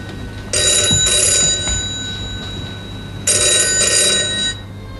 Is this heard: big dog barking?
no